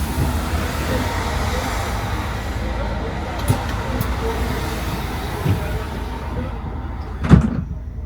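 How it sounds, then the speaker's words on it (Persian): Outside traffic noise from a road trip leaks in as a Yutong bus door opens, with a steady roadway hum, a few faint knocks and a louder clunk near the end. "الان همه درهای اتوبوس بسته است و صدایی نمیشنویم، اما وقتی باز میکنم"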